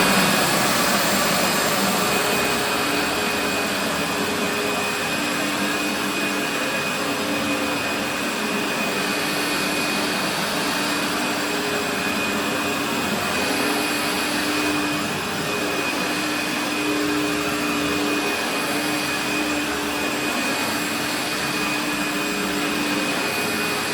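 A Vax Swift Turbo 1600 VS-193S upright vacuum cleaner running continuously up close, a loud, steady whining motor roar with a constant high tone and no pauses, and nobody talking.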